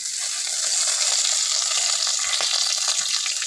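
Peeled garlic and curry leaves hit hot oil and sizzle steadily, a bright continuous hiss with faint crackles, close up and without any talk.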